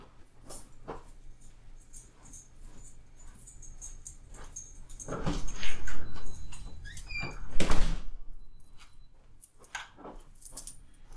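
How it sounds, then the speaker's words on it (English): A dog is let out of a house through a sliding door. Faint squeaks and dog sounds are followed by two louder rattling, rolling bursts from the door in the middle, then quieter movement. "I had to let my dog out."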